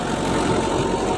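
A tractor ploughing a field runs with a steady low engine drone, constant and moderately loud, with no voices over it.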